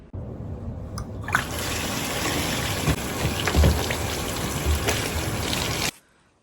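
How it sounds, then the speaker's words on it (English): Running water pours over a hot tub filter from a Costco Evolution spa as it is rinsed and scrubbed, a loud continuous splashing rush that starts abruptly, carries a few knocks and scrapes, then cuts off sharply. "now I'm going to run some water over it, scrub it myself, and dump it all out"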